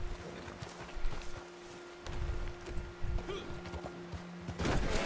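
Horse hooves clip-clop in the video game Red Dead Redemption 2, a steady near gallop of thudding beats under game ambience, with a voice talking over parts of it.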